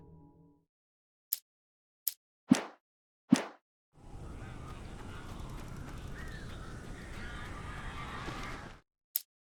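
In the Alan Wake Remastered video game, crows let out a few short, sharp caws and clicks, followed by a long, dense flurry of flapping and cawing, then a final sharp call.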